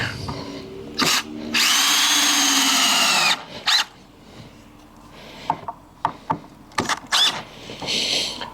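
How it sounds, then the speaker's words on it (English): A power drill drives screws into a scrap wood butcher block side table of spalted oak, with a long high whirring run, shorter bursts, clicking clutch ratchets and wooden knocks, close and loud between quiet pauses. "Might put a couple more screws in here just to get it secure"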